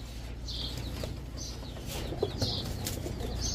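Brief flurries of wing flapping from racer pigeons, with soft bird sounds and a steady low background hum throughout.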